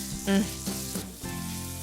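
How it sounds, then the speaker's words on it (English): A sausage sizzling in a pan just after being flipped, a close, continuous frying hiss with a brief louder burst near the start; no talking. "And while I'm in the flipping mood, I'll flip my sausage."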